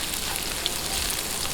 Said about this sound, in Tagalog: umpisa na po natin ang paggigisa. Ayan, lagay na po natin ang bawang